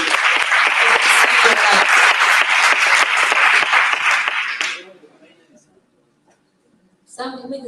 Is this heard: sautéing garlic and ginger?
no